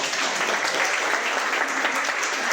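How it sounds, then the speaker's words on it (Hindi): Audience applause at a product presentation in a hotel hall, a dense steady clapping from a crowd that fills the whole moment without pause. "अच्छा, अब अच्छा हो गया तो तालियां तो बनती है"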